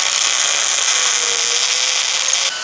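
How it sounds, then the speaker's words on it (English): Welding a bracket onto a VW Baja Bug gives a loud, steady crackling hiss held for a couple of seconds before cutting off abruptly, with no talking. "let's go ahead and weld this last bracket on here"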